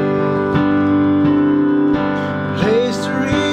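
Country-style chords on piano, the four-chord accompaniment to a classic country ballad, ring out in sustained strikes with a melody line on top, played alone and fairly loud.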